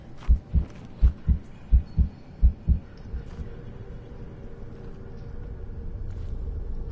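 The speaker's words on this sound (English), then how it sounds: "He's got a heartbeat." Heartbeat effect in the video game Mortal Shell: about eight deep, evenly spaced thumps over the first three seconds, loud and close, then fading into a low droning hum with no talking.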